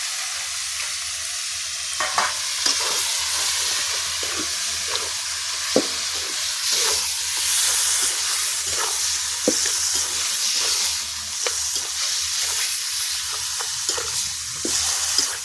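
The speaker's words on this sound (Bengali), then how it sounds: "আমার ফোড়নটা রেডি হয়ে গেছে, কচুর শাকটা দিয়ে দিলাম।" Kochu shak greens tossed into hot tempering oil in a kadai over a wood fire, giving a loud, continuous sizzle and hiss broken by repeated scraping stirs from start to finish.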